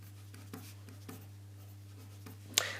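Pen or pencil scratching on paper during a maths lesson, faint strokes with a few sharper taps against a steady low electrical hum, ending with a brief louder scrape.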